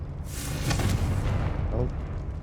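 A Confringo blasting spell detonates in Hogwarts Legacy, a short rumbling boom with crackling debris that fades out over a couple of seconds.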